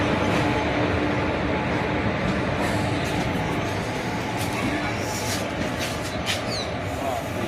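A passenger train pulled by a WAP electric locomotive from the Vijayawada shed departs, a steady, loud rolling rumble of wheels and carriages filling the scene, with faint high clicks and rattles near the end.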